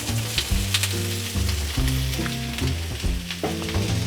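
Thinly sliced cabbage fries in olive oil in a pan, giving a close, steady sizzle and crackle throughout, with a louder background of tonal sound running beneath it.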